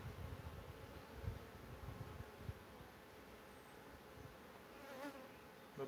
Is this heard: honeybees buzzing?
yes